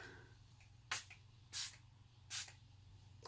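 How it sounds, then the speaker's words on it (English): Goldfaden Mist RX Daily Nutrient Facial Mist sprays in three short, sharp hissing bursts spaced about three-quarters of a second apart, close and crisp over a faint background hum. "this is the Goldfaden Mist RX Daily Nutrient Facial Mist"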